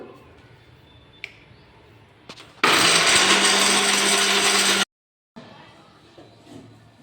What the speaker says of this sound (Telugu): ఇవి కూడా మిక్సీ పట్టుకోవాలి.